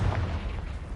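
In the Hogwarts Legacy video game, a Confringo spell explodes with a short, heavy boom and rumbling burst that fills the moment, loud and close.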